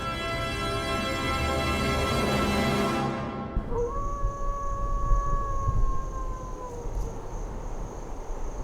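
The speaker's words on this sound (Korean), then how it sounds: "하울링은 늑대들의 소통 방법" Wolves howl in a long drawn-out chorus, a few sustained gliding tones rising and falling over a steady hiss of insect or cricket noise, fairly distant with no talk.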